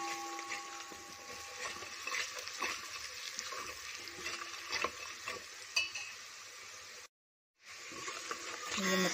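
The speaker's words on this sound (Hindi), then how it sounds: "इनको मैं भून लूंगी अच्छे से।" Garam masala and spices roast in a pan at home, a soft sizzle with scraping stir strokes and occasional clinks, quiet and close, cut by a short silent gap near the end.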